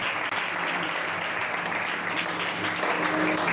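A church congregation applauding during a loud worship and praise service, steady dense clapping with crowd noise sustained throughout, no clear speech over it.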